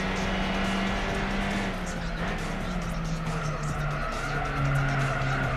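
Race cars in Gran Turismo 4 during a Renault Alpine Cup one-make race, tires squealing as a car slides out under a constant engine drone, with a voice talking over it.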